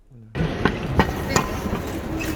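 Train noise inside Paris Gare de Lyon station, a busy rumble with irregular metallic clanks and knocks over a steady background hum.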